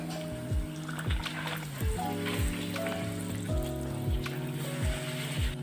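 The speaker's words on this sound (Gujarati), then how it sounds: "અહીંયા આપણે સૌથી પહેલાં કોરા ચણા સાથે ખાવા માટે પૂરી તળી લઈશું" Puris deep-frying in hot oil give a soft, steady sizzle, faint and continuous beneath a repeating tonal pattern.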